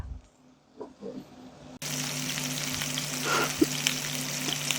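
Stuffed meatballs fry in a pan, a quiet stretch giving way abruptly to a steady, close hissing sizzle that carries on with small pops and no talking.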